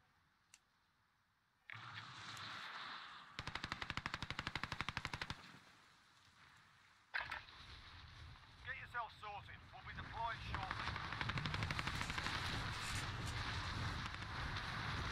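Xbox Series X game gunfire, with long rapid machine-gun bursts and single shots among wind and background noise, while players talk over the action throughout.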